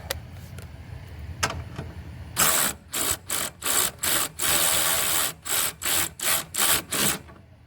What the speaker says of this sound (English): And then you just go around, tighten them up with your ratchet.